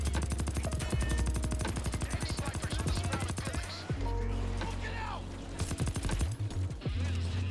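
Fast machine-gun fire in a Payday 2 heist, loud rhythmic shots for several seconds, then scattered single bursts, with someone talking over the shooting.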